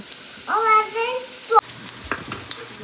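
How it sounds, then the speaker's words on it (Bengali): Luchi, puffed flatbreads made with ripe banana, sizzle and bubble in hot oil. A voice speaks briefly over the frying, followed by a light clatter. "তো আমি এবার লাল লাল করে লুচিগুলো ভেজে নেব।"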